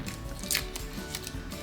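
Scissors snip through paper while a popsicle stick puzzle is being made, one quick crisp cut standing out at close range against a quiet room background.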